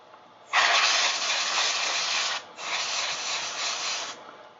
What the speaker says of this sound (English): With compressed gas.